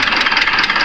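A Mitsubishi Pajero's 4D56 diesel engine runs unevenly after an overhaul, its steady, loud idle clatter carrying a faint irregular pulsing with no voices over it.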